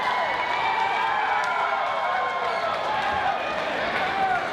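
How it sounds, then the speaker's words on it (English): At a Canada Day independent wrestling show, a crowd cheers and applauds high-risk moves, a dense, continuous wash of voices and clapping holding at a steady, fairly loud level throughout. "This crowd showing their appreciation for the high-risk moves that Freak Nation's pulling off."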